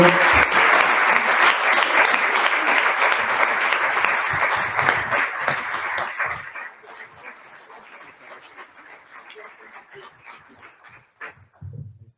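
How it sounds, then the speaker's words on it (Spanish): An audience at a gala applauds author Andrés Pascual, loud dense clapping that thins and fades after several seconds, leaving scattered claps and faint noise. "Un aplauso muy fuerte, que suba esta escala que tantas veces ha subido."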